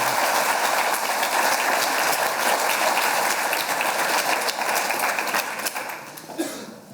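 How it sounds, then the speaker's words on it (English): A lecture-hall audience at a public science and cooking talk breaks into sustained applause, a dense, loud wash of many clapping hands that holds steady before thinning and fading near the end. "please give a hand of applause to all of them"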